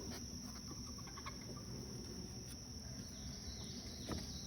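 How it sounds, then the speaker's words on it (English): Honey bees in a crowded brood box give off a steady, dense buzzing hum that fills the whole stretch at an even level, with no voices over it. "They're already buzzing a little bit."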